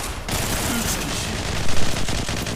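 Rapid automatic gunfire from a P90 in the mobile shooter game Zula Mobile, a dense burst of shots over noisy game sound across the short clip.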